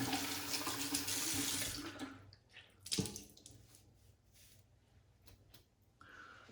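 Boar shaving brushes, including a Semogue OC Taj, are rinsed under running tap water; a loud gush of flowing water fills the first two seconds, then stops, followed by quieter wet squishing and drips.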